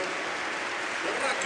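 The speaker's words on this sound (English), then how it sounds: "Generous applause for both." Steady wash of applause from a stadium crowd at a football match as players are substituted, broad and continuous throughout, with a commentator's voice faintly mixed in.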